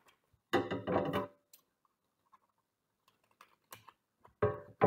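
A strip of paper, folded in half, is cut through the middle in a quick run of crisp snipping bursts, followed by a few faint clicks and taps in an otherwise quiet space, with no talking.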